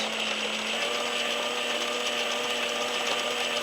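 Steady whirring mechanical drone with a fine ratcheting clatter from an Addi knitting machine driven by a power drill, running continuously and evenly at close range with no pauses.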